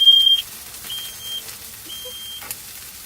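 A kitchen smoke alarm beeps in a repeating pattern of long, steady high-pitched tones separated by short gaps, with faint room sound underneath.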